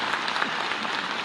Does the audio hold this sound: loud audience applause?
yes